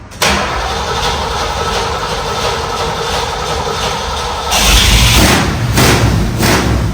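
An older carbureted car engine catches after a second round of cranking and roars to a loud, rough idle close by, swelling louder partway through with a deep rumble.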